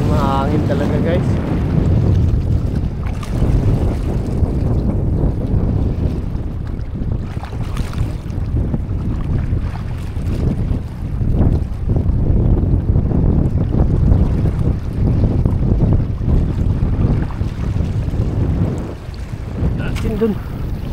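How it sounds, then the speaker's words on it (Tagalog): Strong wind roars steadily across the microphone at a fishing spot for the whole stretch, a constant low buffeting rumble with no break. "Medyo mahangin talaga guys."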